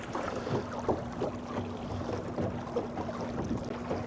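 A small modular three-piece boat cruises at a steady speed on lightly choppy water under an electric motor, with a constant low motor hum beneath splashing water and wind noise.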